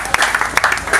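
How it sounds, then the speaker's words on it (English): A brief, loud burst of audience applause at a campus awards show, with dense clapping rising and falling in quick waves. "A round of applause for Nathan."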